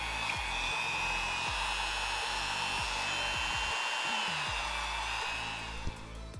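A Dremel rotary tool sands EVA foam seams with a steady high-pitched whine close by, broken by short dips and scraping touches as the bit meets the foam, with no talking.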